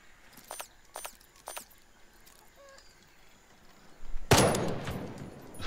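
Gunfire in Jagged Alliance 3: three sharp shots in quick succession, a pause, then a louder burst or impact that rings out and decays.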